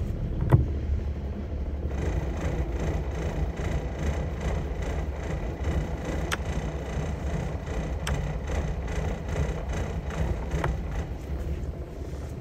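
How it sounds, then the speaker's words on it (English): Boat engines idle low and steady at close range while the vessel manoeuvres into a berth, a continuous rumble with a few faint knocks and clicks and no voices. "So I'm just lining up just by turning on the engines."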